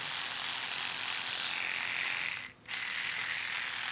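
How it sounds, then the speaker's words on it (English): An electric toothbrush running steadily with a bright, high buzzing hum that holds even, briefly dipping near the end before resuming, with no talk. "The toothbrush, when turned on, will move either in this motion"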